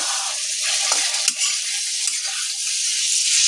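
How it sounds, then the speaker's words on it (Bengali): Potatoes frying with spices in a pan give a loud, steady sizzle that holds throughout, with occasional faint scrapes of stirring and no voices. "সমস্ত কিছু মশলার সাথে আলুটাকে ভালো মতো করে কষে নেব।"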